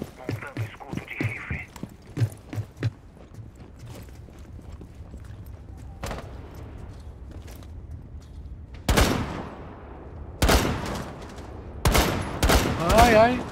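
Gunfire from Rainbow Six Siege on PC: scattered quieter shots and footsteps early, then several loud, sharp isolated shots spaced a second or so apart, with people talking over parts of it.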